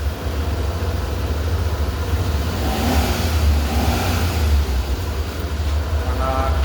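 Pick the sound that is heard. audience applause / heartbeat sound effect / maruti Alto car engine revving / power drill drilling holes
maruti Alto car engine revving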